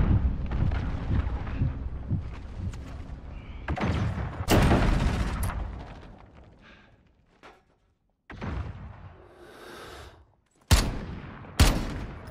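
Missile strike explosions in Call of Duty: Modern Warfare land as a string of heavy booms and thuds, with loud blasts near the start, a quieter stretch, then two sharp, loud impacts close together toward the end.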